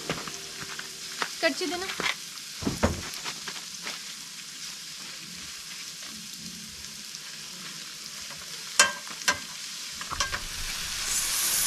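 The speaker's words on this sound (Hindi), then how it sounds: "ये हल्का सा जब ये फ्राई हो जाएंगे गोल्डन ब्राउन" Chopped onions and tomatoes frying in a pan at a camp as the base for an omelette, a soft steady sizzle broken by scraping stirs and clatter, with brief speech in Hindi.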